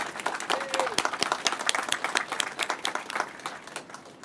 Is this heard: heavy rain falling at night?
no